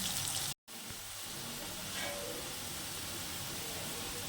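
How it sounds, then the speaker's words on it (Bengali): Potatoes frying to a reddish brown in a pan of hot oil on a gas stove, a steady close sizzling hiss that runs throughout after a brief cut near the start, with no talk. "আলুটা আমি লাল লাল করে ভেজে নেব।"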